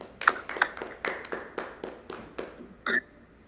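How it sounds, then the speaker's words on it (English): A small group claps at a green-innovation podcast gathering, giving a dozen or so sparse, separate claps in an uneven rhythm, close and moderately loud, with no talking. "Let's give him a round of applause,"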